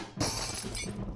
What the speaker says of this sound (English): That's glass.